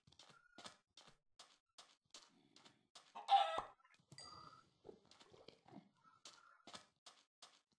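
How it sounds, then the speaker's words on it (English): Chickens cluck in Minecraft as short repeated calls, with one louder, noisier burst near the middle and quieter game sounds around them. "depending on how many of these chickens I slaughter."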